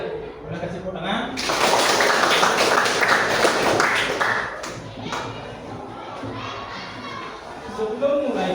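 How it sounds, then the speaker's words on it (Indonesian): Children clap their hands together in a classroom during an art lesson, a burst of many small hands lasting a few seconds and fading out, with voices around it. "Ya, boleh kasih tepuk tangan."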